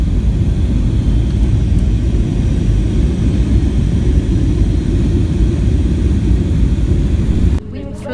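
A passenger airplane lands at Kolkata airport, heard as a loud, steady low cabin roar of the engines that drops sharply near the end, with no speech over it.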